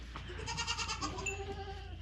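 Young goats bleating in a homestead barn, a run of several overlapping wavering bleats at close range filling the stretch, with no talking.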